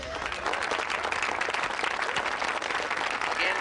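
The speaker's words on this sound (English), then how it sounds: "please hold your applause until the end" Steady, dense audience applause fills a school awards ceremony hall, many hands clapping continuously at full volume with faint murmurs mixed in.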